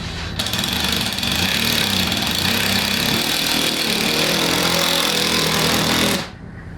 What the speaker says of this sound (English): You're screwing a nail in with a screw gun.